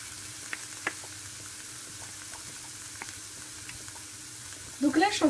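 Meat and onions sizzling in a pan while plain yogurt is stirred in, a quiet steady fry with a few light taps, then louder scraping and stirring near the end.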